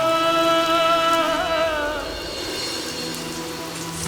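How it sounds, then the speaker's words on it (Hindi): Steady rain pours down, a dense hiss that sits beneath a sustained sung melody for the first two seconds, then continues alone at a slightly lower level. "अगर बारिश हो रही है"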